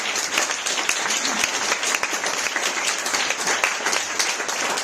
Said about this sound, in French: Donc ça mérite vos applaudissements.